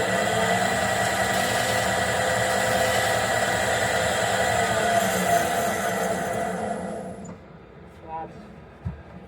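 A bowl blank spins on a wood lathe during rough turning as its corners are rounded, a steady loud whirring drone with tool cutting noise that winds down near the end, leaving a few faint knocks.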